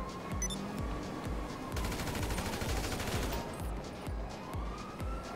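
Rapid bursts of assault rifle fire in Grand Theft Auto V online multiplayer, evenly spaced sharp shots in a steady rhythm, with a siren-like wail running underneath, loud and without talk.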